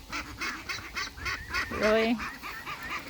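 A flock of ducks at feeding time, a scatter of nasal honks and quacks close by, overlapping in short bursts, with a person briefly speaking.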